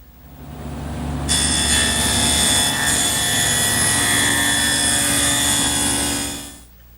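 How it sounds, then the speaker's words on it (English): A table saw fitted with a twin-blade dado cutter set for a 5/8 inch wide dado cuts through wood: a loud, steady, high whining roar starts after a low motor hum and holds for about five seconds before spinning down. "Now to make the dado cut, I've set up my table saw with a twin blade dado cutter."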